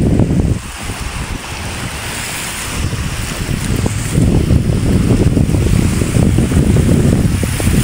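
Strong wind blows outdoors, buffeting the microphone in a loud, continuous rush that gusts harder after the first few seconds, with no one speaking.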